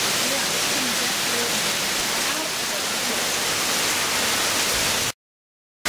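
Water runs down a small backyard drainage channel, a loud continuous rushing hiss that holds steady for several seconds before cutting off abruptly.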